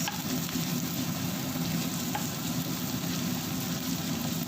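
Spice paste sautéing in a pan for buttered African chicken, a steady close frying sizzle with faint stirring running throughout, no talk.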